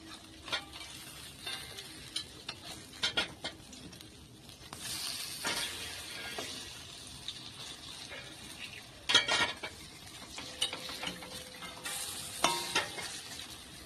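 Malabar spinach leaf fritters fry in a pan over low gas, with soft intermittent sizzling broken by clinks and scrapes of a utensil stirring and turning them, fairly quiet and close, with no talking.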